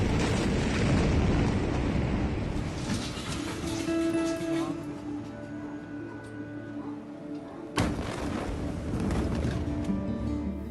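The Beirut port blast: a sustained roaring, rumbling explosion with a sharp crack near the end, heavy low-end energy and wind buffeting on the microphone, with no speech over it.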